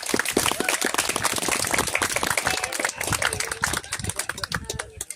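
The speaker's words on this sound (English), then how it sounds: "Big round of applause for Requiem." A room full of people gives a dense round of applause, many hands clapping quickly and irregularly at close range, holding steady for several seconds before thinning toward the end.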